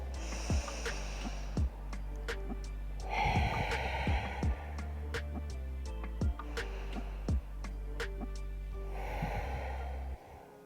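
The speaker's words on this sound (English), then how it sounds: "We're going to have 3 more breaths here." Slow, deep breaths are drawn in and let out during a follow-along shoulder mobility routine, with three soft, close inhale-exhale swells over a steady low background hum.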